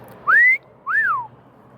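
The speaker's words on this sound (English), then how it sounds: "That lady thought I was whistling at her." Two clear human whistles, the first a rising note held briefly, the second rising then falling, sounded by a man standing near a 1976 Cadillac Seville, fairly loud over faint background hum.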